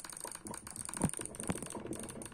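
A Bloody A70 gaming mouse is clicked rapidly during Bedwars play, giving a quiet, dense run of small clicks over faint background hiss.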